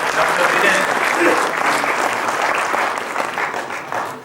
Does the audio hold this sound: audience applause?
yes